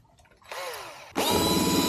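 Power drill boring holes through plastic boxes for a homemade bucket pond filter, two bursts of whining drilling, the second louder and steadier, close by with no talk.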